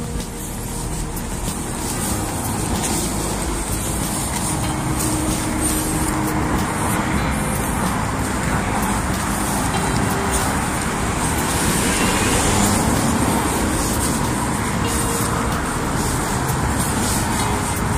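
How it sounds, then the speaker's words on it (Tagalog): Steady road traffic at a vehicle waiting stop in South Korea, a continuous wash of passing cars and heavier vehicles close by, with no speech over the rumble. "Dito na ako sa hintayan ng sasakyan."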